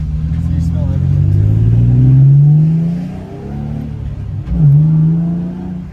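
A Nissan G35 fitted with an HKS replica exhaust drives off, its engine revving loud and close as it climbs and drops through the gears, with voices talking inside the stripped cabin.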